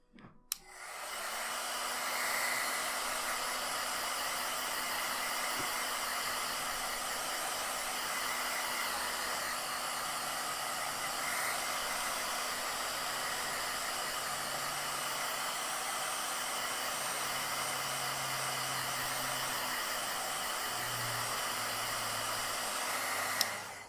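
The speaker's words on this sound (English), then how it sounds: "What we're gonna do now is to dry it out a little bit with the fan." A fan blows a steady, even rush of air over a freshly sculpted clay mushroom, running continuously and close by with no talking.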